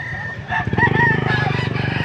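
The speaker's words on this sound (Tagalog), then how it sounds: "Nandito naman tayo sa bintahan ng mga manok." Roosters crow loudly over a busy flock of clucking chickens at a Saturday chicken market, with a continuous din of overlapping calls close by.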